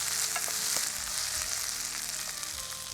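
Steady close sizzle of ingredients sautéing in a pan, with occasional scrapes and clicks of a spoon stirring through the continuous frying hiss.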